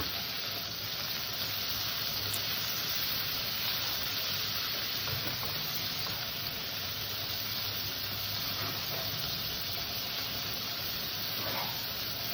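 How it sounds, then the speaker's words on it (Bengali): Prawns fry gently in hot oil in a pan, giving a steady, even sizzle and hiss that runs unbroken for the whole stretch, with no voices. "মাছটাকে আমি হালকা করে ভাজবো, খুব কড়া করে ভাজবো না"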